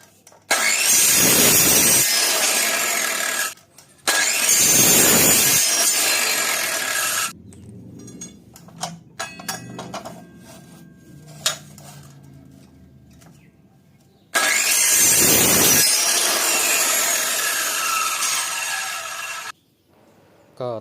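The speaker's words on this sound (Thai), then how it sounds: "ก็จะไล่ตัดจากยาวไปหาสั้นนะครับ ไล่ขนาด จาก99 ไป 95 แล้วก็ 91 ครับ" Steel tent frame tubes are cut to length with a power saw in three loud, harsh bursts of grinding, separated by quieter stretches of clanking and handling of the metal, with no one talking.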